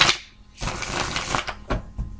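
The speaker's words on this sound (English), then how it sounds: "One more shuffle." A quick burst of crisp, papery riffling, then a few short taps and flicks, sounding like a deck of cards being shuffled close by.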